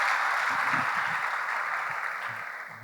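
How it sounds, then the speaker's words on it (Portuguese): A church congregation applauding the brothers, a dense, steady wash of clapping from a crowd that fades slightly toward the end. "Vamos dar um aplauso para os nossos irmãos"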